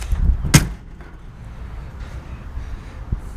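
Car door shut on a vehicle being restored, with a single sharp slam near the start followed by quieter background noise and a faint later knock.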